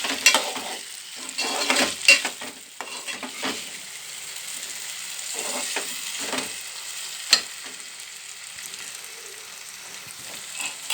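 Potatoes fry with onions and green chilies as a spoon stirs them, and the soft, steady sizzle is broken by scraping, clattering stirs.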